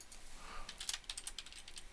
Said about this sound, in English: instead of typing in Roosevelt again, we just type in P